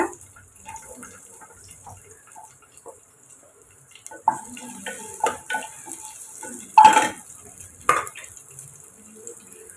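Chopped onion added to a pressure cooker and stirred, heard as sparse soft clinks and scrapes that grow busier midway, with a few sharper knocks of the spoon against the pot, close and without speech.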